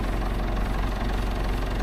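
An old 165 tractor engine idles steadily, a close, continuous low rumble with a faint knocking pulse that stays level throughout.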